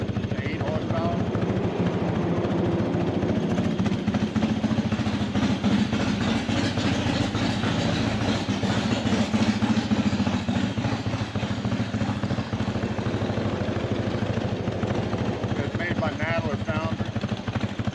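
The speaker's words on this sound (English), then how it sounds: "The motor was made in Blackman, 8 horsepower." An 8 horsepower outboard on a traditional wooden pirogue runs with a loud, steady rattling drone close by, its rapid pulsing continuous throughout while people talk over it.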